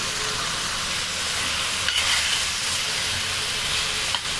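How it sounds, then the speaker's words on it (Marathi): Spiny gourd (kantoli) going into a hot pan with turmeric, Agri masala and amchur powder, giving a steady close hiss and sizzle with a couple of brief stirring clinks. "आता आपण कंटोली टाकून घेऊया।"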